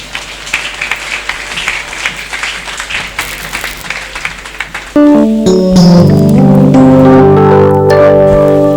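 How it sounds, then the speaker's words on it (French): Applause at a church general assembly opening fills the first five seconds as dignitaries exit, a steady crowd clapping that then gives way to loud sustained harmonic music. "Nous accompagnons la sortie de son Excellence et de notre représentant légal par des applaudissements"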